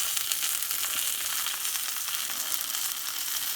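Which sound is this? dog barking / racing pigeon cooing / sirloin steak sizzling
sirloin steak sizzling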